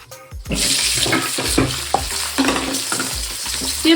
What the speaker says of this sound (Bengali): ভালো করে ভাজবো যাতে সেদ্ধ হয়ে যায়